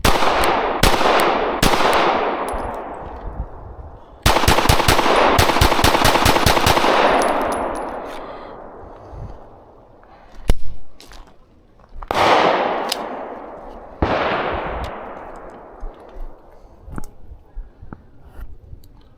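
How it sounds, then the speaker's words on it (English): Rapid strings of gunshots from a PSA Micro Dagger C-1 pistol ring out in several bursts, each sharp crack trailing into echo, with a long fast volley near the middle and scattered single shots, loud and close with no talking. "Pretty nice little rapid fire group there."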